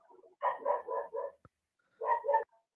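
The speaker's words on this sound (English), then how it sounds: "the dog behind Sif sounds more clear than your voice" A dog barks behind a person on a voice call, giving a quick burst of four sharp barks, a short pause and then two more, fairly close and clear, with no talk over them.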